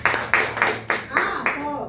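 A church congregation claps in strong, evenly spaced bursts, about six loud, close claps over under two seconds, with voices and shouts mixed in.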